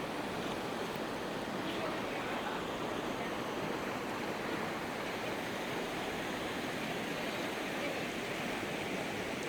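A waterfall on the Dartmoor moors pours in a constant, loud hiss of falling water, steady and unbroken throughout with no talk.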